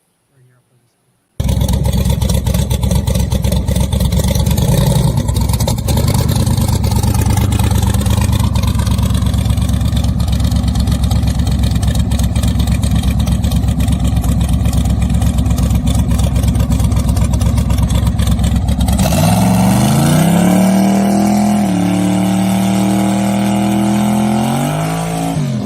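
A car engine runs loud and close, holding a steady roar for a long stretch before surging into a rising rev toward the end.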